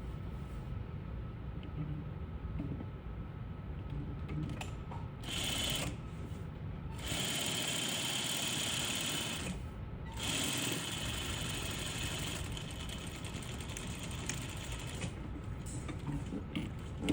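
A sewing machine stitches a slot seam in fabric, its whirring motor running in several steady bursts separated by short pauses, close and fairly quiet, with no talking.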